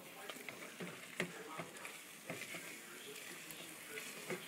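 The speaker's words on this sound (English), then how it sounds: "Scraping the edges all the time. Mixing it, making what was the top the bottom." Melting cheese stirred and scraped around a pan for mac and cheese, a soft constant sizzle with scattered scraping strokes along the edges, faint and close.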